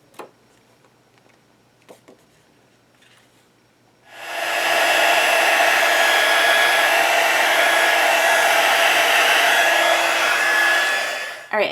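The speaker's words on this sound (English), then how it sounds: "I finished embossing my heart, and I love the shine that the iridescent ice embossing powder gives to this" Steady, loud whooshing roar of a heat gun melting iridescent ice embossing powder over stamped hearts, starting abruptly after a few quiet seconds with faint ticks and running steadily to the end.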